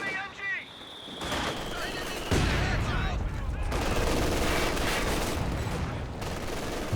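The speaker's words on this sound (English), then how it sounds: "Contact! Enemy MG!" Enemy machine gun fire rattles in Company of Heroes 2, dense gunfire bursts with other battle sounds building after a quieter start, loud and sustained, with voices heard briefly.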